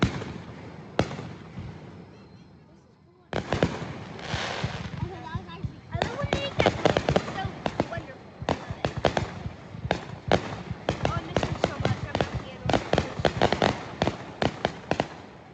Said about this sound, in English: Fireworks were incredible.